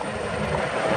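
A military aircraft passing over the RAF Cosford airshow gives a steady, loud, broad engine roar through the whole short moment, with no talking.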